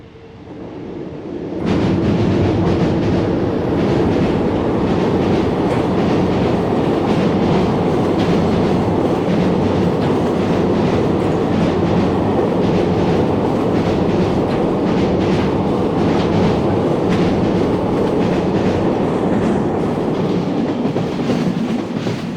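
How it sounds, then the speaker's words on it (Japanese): A freight train on the Kagoshima Main Line passes close by after a quiet start, a loud continuous roar of wagons with steady rhythmic clickety-clack of wheels over rail joints lasting to the end. "1056列車倉賀野行きです。"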